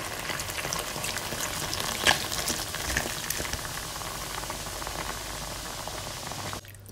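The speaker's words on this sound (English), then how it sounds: "Beef goes back in the pan. With the rest of the ale." Beef and ale sizzling and bubbling in a pan for beef in ale with dumplings, a steady close frying hiss with small pops that cuts off near the end.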